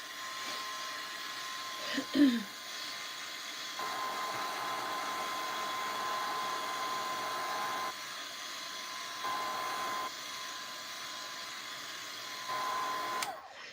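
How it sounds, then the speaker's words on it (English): A heat tool blows a steady, fairly quiet whir while drying gesso, holding a constant airy hum for the whole stretch with slight shifts in level and a brief clunk early on. "I'm drying this gesso."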